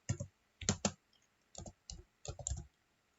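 Someone types on a computer keyboard, tapping out a short run of a few quick keystrokes in small clusters with pauses between them, close and fairly quiet, with no talking.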